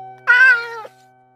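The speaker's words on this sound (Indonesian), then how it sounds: "Dasar kucing gembul." A single clear, loud meow from a cat, under a second long with a rising then falling pitch, set against a quiet background hum.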